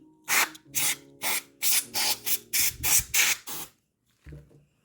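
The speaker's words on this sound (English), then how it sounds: "Now I'm just spraying the air just in case I've got any fragments of foil or kitchen towel stuck in there." Compressed air blasts through the parts of a rusty vintage Singer sewing machine in about ten short, loud, rhythmic bursts, close by, followed by a pause and a soft knock.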